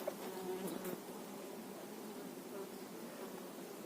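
Yellow Carpathian honey bees buzz in a steady, continuous drone, close and fairly quiet, with a brief louder pass near the start.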